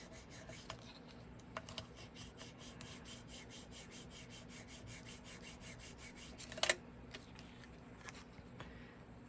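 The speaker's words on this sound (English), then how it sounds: "fold it. Burnish it down." Burnishing folded, glued paper for a handmade undersea-themed tag mini album: a steady, quiet rapid rubbing and scraping, close and alone, with a brief sharper scuff near the end.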